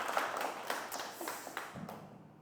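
A church audience claps in welcome for a guest being introduced, a brief scattered round of applause that tapers off within a couple of seconds.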